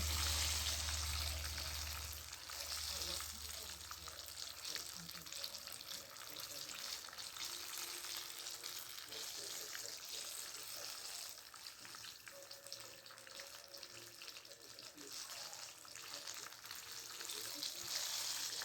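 Egg rolls filled with Nutella and banana or caramel apple frying in a pan, a continuous bright sizzle and crackle, fairly quiet and steady, with occasional faint stirring.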